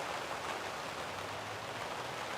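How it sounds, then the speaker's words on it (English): Steady rain drumming on a polytunnel's plastic covering, a dense even hiss of drops heard from inside, fairly quiet and continuous with no voices. "Rain on the tunnel."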